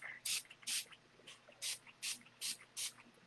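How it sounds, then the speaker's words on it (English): A rose gold spritz spray bottle fires six short, sharp hissing bursts in a quick uneven rhythm, close and clear against a quiet background. "So let's play with this. Let's spray these."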